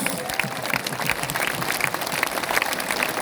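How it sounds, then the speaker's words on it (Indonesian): Applause from a church congregation at a festival service, a dense, steady wash of many hands clapping together, held at an even level throughout with no break. "Mari angkat tangan sekali lagi, beri tepuk tangan buat Yesus."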